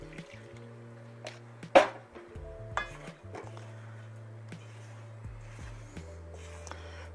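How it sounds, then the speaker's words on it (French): Pizza dough ingredients being mixed with water in a bowl, producing soft intermittent squishing and clinking of a utensil against the bowl, quiet and sparse, with one sharper knock. "Puis, on commence à mélanger."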